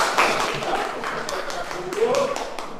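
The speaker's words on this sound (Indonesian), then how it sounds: "Tepuk tangan dulu buat" Pupils in a classroom clap at a teacher's prompt, a series of separate, fairly loud claps in a loose rhythm close by, with a voice speaking over part of it.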